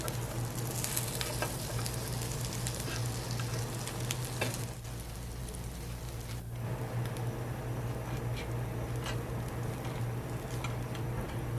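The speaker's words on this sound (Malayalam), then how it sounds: "ഇത്രയുമാണ് ഞാൻ ഫ്രൈ ചെയ്തെടുക്കുന്നത്" Prawns deep frying in hot oil for a crispy snack, a steady dense sizzle with crackling pops and occasional stirring ticks, close and continuous throughout.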